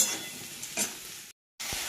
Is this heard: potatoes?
yes